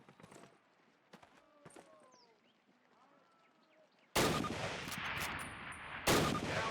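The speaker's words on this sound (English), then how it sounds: "Turn to the left, move to the fence, and fire 2 rounds at your target." Springfield rifle fired twice at a target range in the Call of Duty video game, with scattered quieter shot sounds first, then two loud, sharp gunshot blasts near the end, each followed by a long ringing tail.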